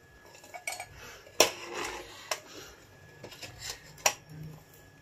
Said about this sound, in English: After I peel the potato, I have the machine, chips machine.